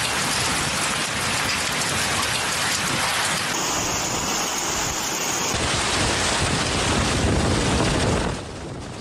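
Heavy rain and hail batter the ground during a strong hailstorm in a desert city in Saudi Arabia, a loud, unbroken drumming roar that drops off abruptly at the very end.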